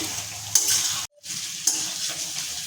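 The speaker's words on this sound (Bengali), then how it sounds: "এরপর ভাজা পটল আর আলুগুলো আবার মশলার সাথে কষিয়ে নেব" Fried pointed gourd and potatoes stir in a pan with spices, giving a continuous sizzle broken by scraping stirs and a brief silent gap near the middle, heard up close without speech.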